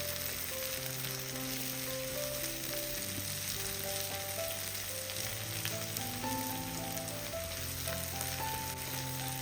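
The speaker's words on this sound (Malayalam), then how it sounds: "ഒന്ന് ഇളക്കി യോജിപ്പിച്ചെടുക്കാം." Egg and Maggi noodles sizzle and fry steadily in a pan while being stirred, a continuous close crackle with soft scraping throughout and no voices.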